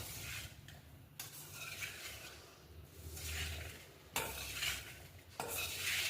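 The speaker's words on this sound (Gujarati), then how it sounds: "હવે આને આપણે આવી રીતે મિક્સ કરી દેવાનું છે" Mukhwas ingredients being stirred together in a pan, with soft, dry, rustling scrapes that come in repeated close sweeps and a few sharper knocks, fairly quiet and without speech.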